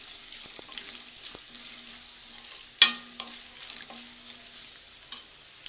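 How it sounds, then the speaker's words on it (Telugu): Garlic frying in oil in a pan for tomato chutney, a faint low sizzle with occasional ladle scrapes and one sharp clink, close but quiet. "ఈ వెల్లుల్లి కలర్ మారేంత వరకు వేయించుకోవాలి"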